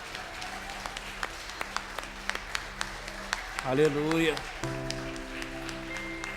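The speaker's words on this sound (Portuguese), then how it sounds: "Você pode aplaudir o Senhor?" A church congregation claps in sparse, rhythmic single claps at a worship service, followed by a voice calling out and sustained sung tones over fading applause.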